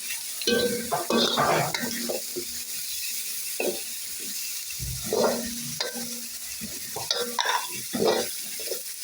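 Carrots stir-fried for egg kottu give a sizzle broken by frequent scraping, clattering utensil strokes against the pan in irregular bursts. The sound is close, steady in level, and without voices.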